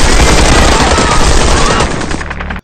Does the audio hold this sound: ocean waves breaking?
no